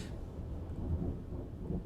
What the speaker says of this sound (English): Ooh, can you guys hear that thunder?